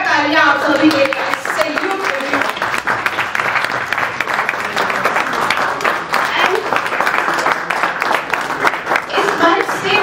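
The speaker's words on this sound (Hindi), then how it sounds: "जोरदार तालियां आप सभी के लिए" Loud, sustained audience applause at a Women's Day event, dense clapping with cheering voices mixed in, continuing at full strength for the whole stretch.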